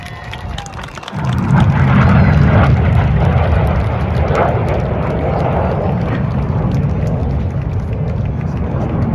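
Red Arrows jets fly a display at an Armed Forces Day show at Jordanstown Loughshore Park. A loud, broad roar swells in after a second and holds steady, with crowd noise underneath.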